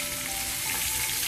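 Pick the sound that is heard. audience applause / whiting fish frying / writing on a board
whiting fish frying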